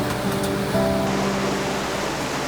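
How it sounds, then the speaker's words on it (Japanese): A river in Finnish Lapland rushes beneath a suspension bridge as a constant, broad wash of flowing water, steady and fairly close, with a few faint clicks at the start. "辺りの静けさとは対照的に川の音だけが際立っていた。"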